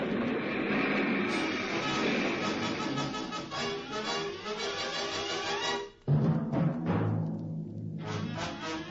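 A steam-era train sound effect from a 1953 old-time radio drama, loud rumbling and clattering rail noise that fills the clip, with a brief break near the end before the rolling clatter resumes.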